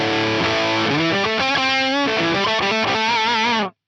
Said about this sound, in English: I'm going to move over to the bridge humbucker, which at the moment sounds like this.